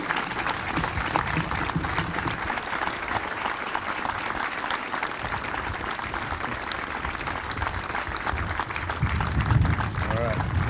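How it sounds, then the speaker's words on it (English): Audience clapping at an Army change of responsibility ceremony, a long, dense round of applause from a large crowd outdoors, with voices and cheers mixed in. "Stop the clapping."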